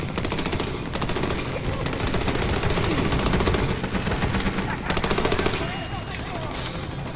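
Rapid automatic gunfire in the shooter game Army of Two: The Devil's Cartel, dense continuous bursts of rifle and machine-gun fire filling the scene, loud and close, with short gaps between volleys.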